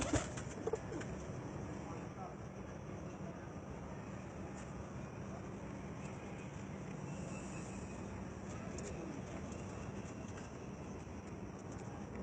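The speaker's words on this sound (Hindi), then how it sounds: "ये वो तमाम उनके कबूतर मैं आपको दिखा रहा हूँ।" Racing pigeons coo softly and steadily from a Punjab-level championship loft, set against a constant broadband background rumble that runs throughout.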